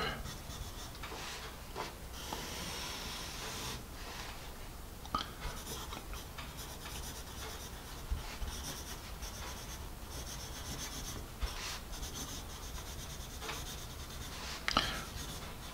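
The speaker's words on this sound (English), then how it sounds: "This is fun to write with." A Faber-Castell Jumbo Grip pencil scratches across paper in close, continuous rubbing strokes with occasional light taps, steady and fairly quiet throughout.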